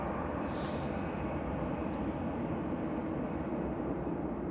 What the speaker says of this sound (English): It seems very low, the A380.